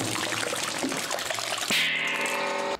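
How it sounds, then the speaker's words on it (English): A huge batch of eggs pours out in a dense, wet, continuous trickling cascade, loud and close, ending in a brief sustained ring before cutting off. "Which of these egg pours was your favorite?"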